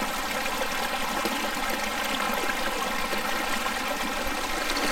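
A continuous, steady rush of water pours and trickles close by from a hiking water filter pump, with no pauses or voices.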